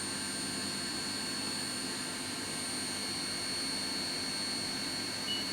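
A Haas Mini Mill CNC engraving with its spindle at 6,000 RPM and a 15-inch linear feed rate gives a steady, unbroken whine with a high tonal ring over broadband machine noise, constant throughout.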